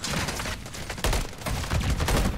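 Rapid automatic rifle fire from a first-person shooter match in Modern Warfare 3, loud and close, with several dense bursts of crackling shots running almost continuously.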